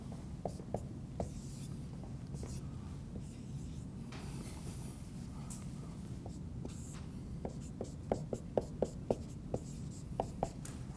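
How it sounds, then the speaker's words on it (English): Pen scratching across paper as an integral is written out by hand, with soft continuous strokes and short tapping marks, close and quiet against faint background noise. "Let me write it down first"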